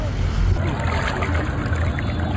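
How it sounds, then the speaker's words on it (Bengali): A motor trawler crosses the river at a ferry ghat, its engine giving a steady low drone with the wash of water all the way through, and voices murmuring faintly under it. "ফেরিঘাট পার হচ্ছি ট্রলারে করে"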